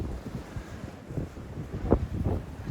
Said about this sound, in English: Just showing you how windy it is.